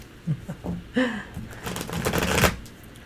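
Tarot cards shuffled by hand, a dense riffling flutter that builds over a few seconds alongside faint background chatter and soft bird-like chirps.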